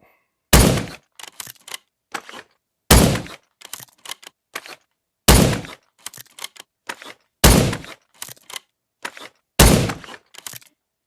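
Rifle shots from Pavlov Shack VR, five loud sharp reports spaced about two to three seconds apart, each followed by a quick series of clacking bolt-action cycling sounds, with no talking.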